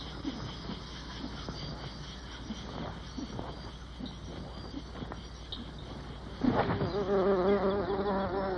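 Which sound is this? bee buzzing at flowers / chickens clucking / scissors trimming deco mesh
bee buzzing at flowers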